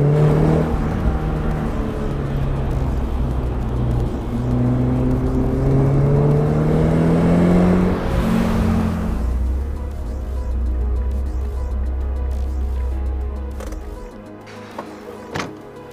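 A 1990 Mercedes-Benz 190 E 2.5-16 Evolution II is driven, its engine whining and rising in pitch through the gears before settling to a steadier drone, with a few faint clicks near the end.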